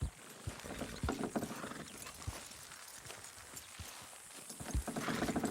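Horse hooves clip-clop in an irregular rhythm in the video game Red Dead Redemption 2, over a constant background hiss, with no voices.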